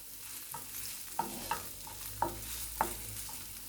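Peppers and sausage sizzle steadily in a hot pan while a utensil scrapes and stirs, giving several sharp clinks over the constant frying hiss.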